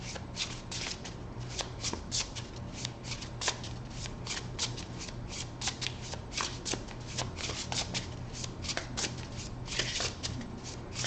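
Tarot cards being shuffled and cut by hand, a continuous, close riffle of rapid card flicks with no pause throughout.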